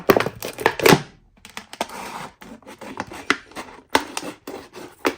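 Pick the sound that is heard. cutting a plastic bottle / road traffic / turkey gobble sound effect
cutting a plastic bottle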